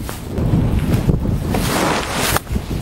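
Steady wind buffets the microphone on a golf course at Bellême, a broad rushing roar with gusts and a brief dip near the end, no voices.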